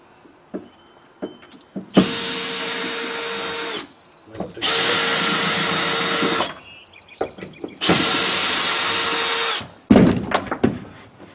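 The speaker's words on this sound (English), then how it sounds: "Going to put a couple of screws back in just in case it moves" A power drill drives screws back into a wall beside an improvised A-frame hoist, three sustained whirring bursts of about two seconds each, loud and close, separated by clicks, handling knocks and brief pauses.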